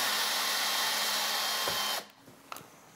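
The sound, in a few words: power tool removing trim screws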